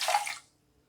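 A short splash of water poured into a pan of sugar to make syrup, one brief close pour that stops abruptly.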